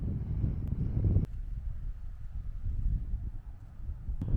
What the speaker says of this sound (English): it is still pretty windy